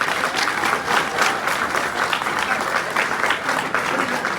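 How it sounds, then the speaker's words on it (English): An audience gives dense, continuous applause at an awards acceptance speech, a close, loud wash of many hands clapping with faint crowd murmur. "Round of applause for my wife."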